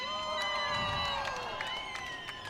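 Crowd at a short track speedway race on a Saturday night cheering and whooping, a broad wash of voices with several shrill whistles and shouts rising over it, fading slightly toward the end.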